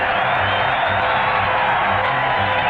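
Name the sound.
stadium crowd cheering on a TV fight broadcast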